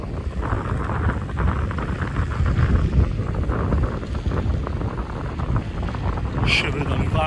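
Wind rushes over the microphone while riding a DYU D3F e-bike, a continuous close roar that swells and eases, with a brief higher sound near the end.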